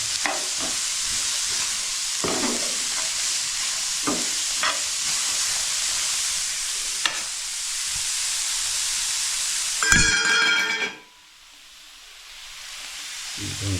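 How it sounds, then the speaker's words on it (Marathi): Onion fries in oil in a pan, a loud, steady sizzle and hiss with occasional stirring scrapes that swells briefly and then drops to a quieter crackle. "तेलात कांदा परतून घेऊया मस्तपैकी, म्हणजे खाली लागणार नाही."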